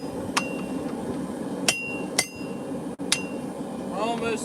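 Hammer blows on a thick steel meat cleaver being forged, four or five sharp ringing strikes spaced irregularly over a low background hum, with a faint voice near the end.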